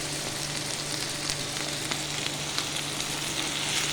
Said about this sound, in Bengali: এটা নেড়ে নেড়ে আর ভেজে নেব।